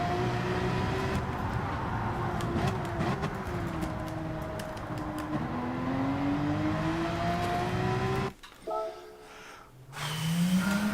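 A Porsche race car in Gran Turismo 7 drives on at a sustained engine note, with pitch rising and falling through gear changes, then a sharp drop and brief lull before the engine revs back up.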